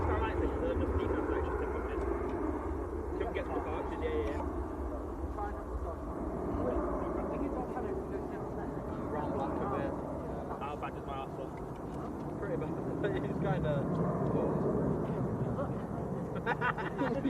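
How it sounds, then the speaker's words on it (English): An airliner departs Manchester Airport, a steady broad jet roar holding loud and close throughout, with people talking over it. "We have got a nice aircraft coming out though."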